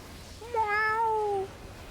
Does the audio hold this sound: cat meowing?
yes